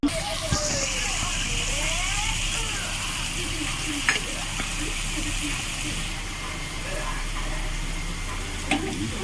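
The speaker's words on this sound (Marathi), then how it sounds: "त्याला फोडणी घालून इथे शिजवून घेणार आहे. लसूण, कांदा, मिरची, टोमॅटो टाकून" Garlic, onion, chili and tomato fry in oil as a tempering for potatoes, a steady sizzling hiss with scraping stirs and a few clanks, with a voice talking over it.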